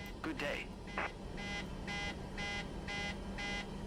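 Low-oil-pressure warning in an airliner cockpit in Microsoft Flight Simulator 2024, beeping in a steady repeating rhythm of evenly spaced tones over a low cabin hum, with a voice speaking briefly near the start.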